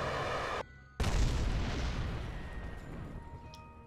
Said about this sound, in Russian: Крыло целое взорвалось